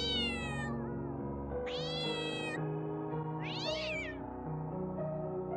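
Several cats meow in turn, loud and close, with long drawn-out calls separated by brief pauses and no talking.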